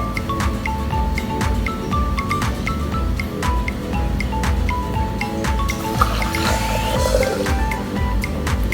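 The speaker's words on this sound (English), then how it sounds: "Now we pour back the water from the glasses to the pitcher." Water poured from drinking glasses back into a pitcher, a continuous trickling and splashing stream with small clinks, close and fairly loud throughout, with no talking.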